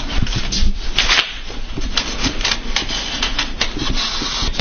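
A sharp X-Acto blade cuts through foam board taped together, producing a quick series of close, crisp scratchy snicks and scraping strokes in an irregular rhythm, with no talking.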